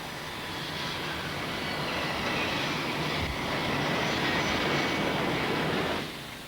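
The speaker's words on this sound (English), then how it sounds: "An airport is a place where aeroplanes take off and land." A steady, loud roar of a jet aircraft engine at an airport rumbling continuously for several seconds before easing off slightly at the end.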